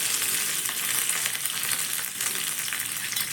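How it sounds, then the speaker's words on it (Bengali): Black mustard seeds and chopped curry leaves fry in hot oil as a tempering, giving a steady, close, crackling sizzle with no talk. "কালো সর্ষেটা যখন একটু ভাজা ভাজা হয়ে যাবে, এখানে কিছুটা পরিমাণ কারি পাতা কুচনো আমি এখানে ব্যবহার করলাম"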